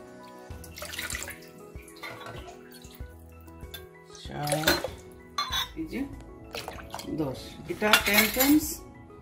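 Spoon clinks and scrapes against a cooking pot as water is stirred for homemade Bengali-style boba tea, with irregular metallic knocks and swishes at close range, and a voice speaks quietly at times.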